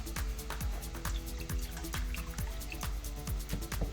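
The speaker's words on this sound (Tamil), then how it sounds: "நமக்கு தேவையான தண்ணியை ஊற்றுறோம்" Water poured onto tamarind for Tamil-style paruppu rasam, heard as a busy run of drips and splashes into a vessel, steady and close throughout with no speech.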